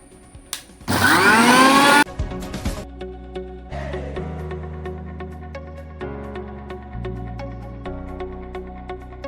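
A mixie jar grinding sugar lets out one loud, close whir lasting about a second, then cuts off into quieter clinks and knocks with faint ringing tones, no voices.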